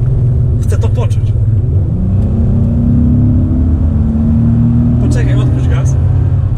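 A Bentley Continental GT with a 560 HP 6.0-litre W12 engine rumbles loudly and rises in pitch as it accelerates, its steady roar running throughout, with people talking over it.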